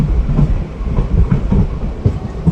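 A Bidar to Kalaburagi DEMU train runs along the rails with close, loud rhythmic clickety-clack and a heavy rumble, and no voices.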